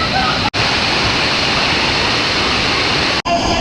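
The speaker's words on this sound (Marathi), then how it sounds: "पाण्याचा फ्लो वाढला आहे कारण का पाऊस पडतो आहे कंटिन्यू पाऊस चालू आहे" Ransai waterfall in Uran swollen by continuous rain, a loud, steady, close roaring rush of falling water filling the whole clip, with two brief dropouts.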